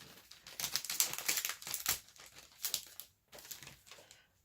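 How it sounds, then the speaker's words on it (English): A plastic baggie from a scrapbooking page kit crinkles up close in quick, irregular bursts of crackling, with a brief pause near the end before a few more rustles. "sorry for the crinkling. I just realized I missed a piece from the baggie"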